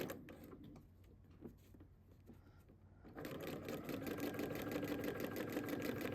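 A sewing machine stitches fabric around a heart shape for a Valentine's card, starting quieter with scattered stitching and then running fast and steady in a loud, dense mechanical rattle.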